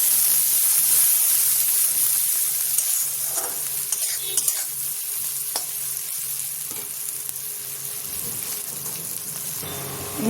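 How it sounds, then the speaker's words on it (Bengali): Onions fry in oil in a pan, making a sustained bright sizzling hiss with occasional stirring scrapes and small pops, close and steady for about ten seconds, with no speech. "পেঁয়াজ ভাজা হয়ে গেছে"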